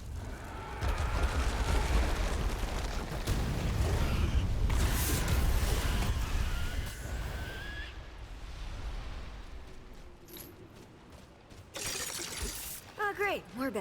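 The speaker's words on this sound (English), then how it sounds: "Explosion." A heavy explosion in the action shooter Remnant 2, a loud sustained blast with crackling debris and rumble lasting several seconds before fading, followed by quieter game noise and a brief voice near the end.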